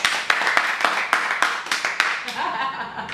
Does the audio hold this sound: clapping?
yes